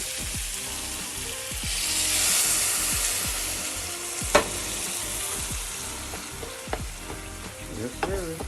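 Water poured into a skillet of Cajun pork sausage hits the hot pan with a loud hissing sizzle that swells, then settles into steady bubbling with a few utensil clinks and knocks.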